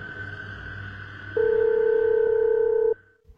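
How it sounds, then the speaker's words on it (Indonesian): Telephone dialing in a horror cartoon: a faint electronic tone followed by a loud, steady single-pitch beep lasting about a second and a half, then cutting off abruptly. "Telepon Pak Ian aja lah."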